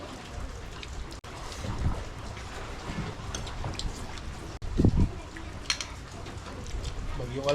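Steady rain from a tropical storm patters on surfaces outside a home, a continuous hiss with scattered drip impacts throughout and a louder burst near the middle, with voices and background household activity faintly mixed in.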